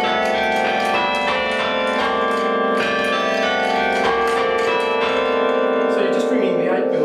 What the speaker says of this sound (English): it's called change ringing, because you're just changing the order of the bells.